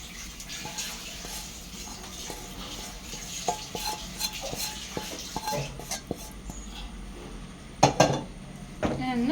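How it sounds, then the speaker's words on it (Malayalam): Utensils scrape and clink against a pan as fried meat is stirred with chilli powder, with a soft sizzle underneath and a louder clatter near the end. "ഇളക്കി കൊടുക്കാം"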